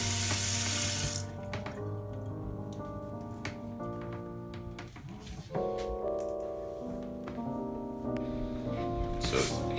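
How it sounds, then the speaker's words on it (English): Water running steadily through a tube from a homemade waterer into a Christmas tree stand reservoir, a continuous trickling flow with a tonal hum underneath, close and moderately loud with no talking. "that water is going to pour itself into the reservoir for the Christmas"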